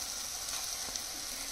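Mashed tomatoes, vegetables and boiled potatoes for pav bhaji fry in a pan with a steady, close hiss and sizzle, plus a faint stirring tap, with no one talking.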